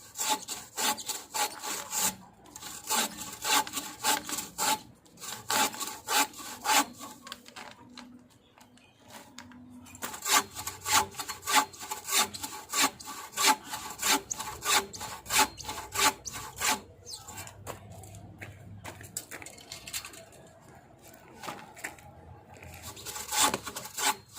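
A bow saw cuts coconut wood for making chairs with steady back-and-forth rasping strokes, loud and close. A short pause comes near the middle before the rhythmic sawing resumes, and birds chirp faintly in the background.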